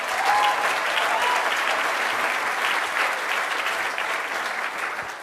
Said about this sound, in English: So give her another big round of applause.